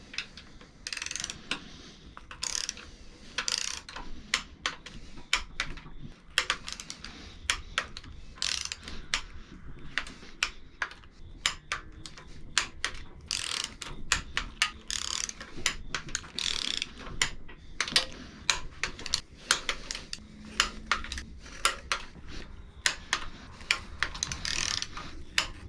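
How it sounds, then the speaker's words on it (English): A torque wrench ratcheting down bolts during a turbo install on an MK3 Supra, rapid close clicking in steady bursts with brief pauses, continuing for a long stretch. "this is going to get torqued to 9 foot-pounds or 108 inch-pounds"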